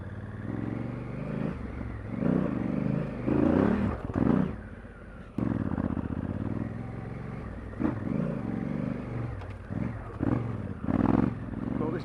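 A heavy motorcycle of more than 200 kg labours up a steep, rutted hill, its engine rising and falling in uneven surges of revving with clatter from the ground. Wind noise and speech-like sounds come through at times.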